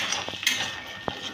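A spoon or spatula stirs patol (pointed gourd) peel paste with salt and turmeric in a pan, giving a few light scraping clinks of utensil against metal, close and quiet with no talking.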